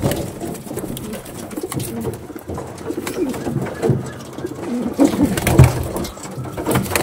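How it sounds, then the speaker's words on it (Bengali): Andhra and Madrasi racing pigeons coo in low, uneven bursts close by, mixed with wing rustles and shuffling in the loft. "একদম অসাম কোয়ালিটির পায়রা"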